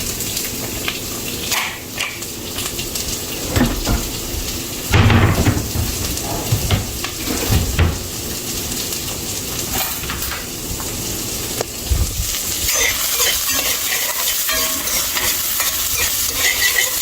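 Garlic and onions frying in a little oil for Creole cooking, a sustained crackling sizzle broken by scraping stirs and occasional louder knocks of a utensil against the pan, close and continuous, no speech.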